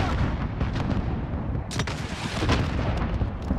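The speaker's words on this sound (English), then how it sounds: "Grenade out." Grenade blast in Call of Duty Warzone on Rebirth Island during a Resurgence duos match, a dull booming burst within constant noisy gunfire and rumble, with sharper cracks toward the middle, all fairly loud.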